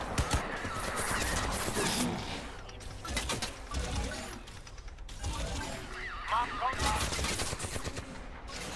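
Gunfire and mechanical clatter during combat in Crysis 2, bursts of rapid shots mixed with clicking, ratcheting weapon noises and a faint voice in the background.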